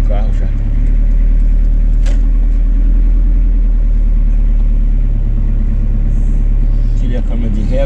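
A car engine hums at a low, steady idle while the driver maneuvers into a parking space, a close continuous rumble running under ongoing talk.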